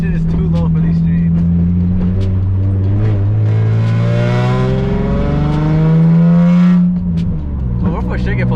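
A lowered Nissan 350Z engine roars very loud and close, its pitch rising and falling through hard revs and acceleration, with people talking over it inside the car.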